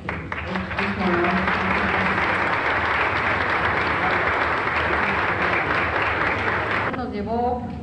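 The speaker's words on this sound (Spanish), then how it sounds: "Y para ella, un aplauso porque es un honor." Sustained audience applause at a public event honoring a woman, steady dense clapping filling nearly the whole stretch, with faint voices and speech at the start and end.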